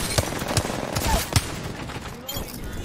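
Gunfire from a squad in Apex Legends: several separate sharp shots at irregular intervals, moderately close, with game noise and a voice talking over them.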